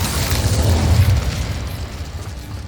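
A loud, booming fire blast from the Incendio spell in Hogwarts Legacy, a thick rumbling burst that rolls on steadily for a couple of seconds with no voice over it.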